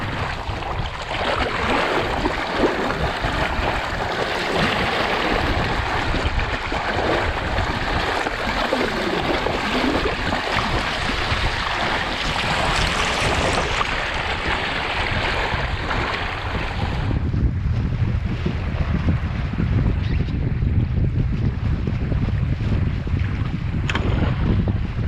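A Sunfish sailboat slicing across cold water on a fine day, with steady wind buffeting the microphone and continuous splashing and hull wash, no talking, the rush easing slightly toward the end.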